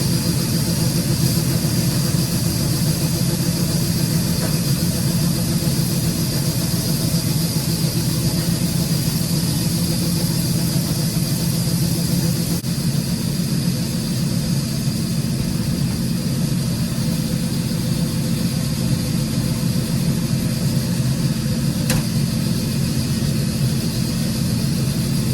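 A combine harvester runs steadily in a soybean field while unloading beans from its full grain tank, a loud continuous low engine drone with mechanical hum and no voices for the whole stretch.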